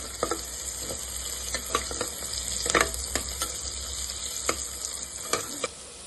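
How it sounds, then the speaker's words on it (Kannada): Fennel and cumin seeds sauté in a hot pan for tomato bath, with a steady close sizzle broken by several sharp scraping stirs throughout. "1/4 ಸ್ಪೂನ್ ಅಷ್ಟು ಸೋಂಪು, 1/2 ಸ್ಪೂನ್ ಅಷ್ಟು ಜೀರಿಗೆ. ಇದನ್ನ ಈಗ ಸ್ವಲ್ಪ ಬಾಡಿಸ್ಕೊಂಡ್ಬಿಟ್ಟು"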